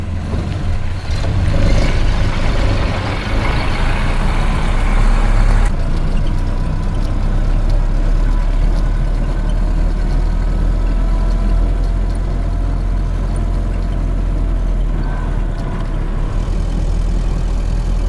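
A 1929 Ford Model A on the road, its engine droning steadily and loudly with a deep low rumble throughout, the tone shifting slightly early on as it cruises along.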